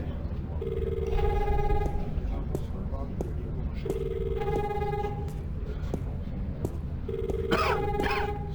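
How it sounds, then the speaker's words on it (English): A telephone in the adventure game The Longest Journey rings in three separate bursts of repeated electronic trills, with background room ambience and brief voices between the rings. "Hey, there's a phone call for you."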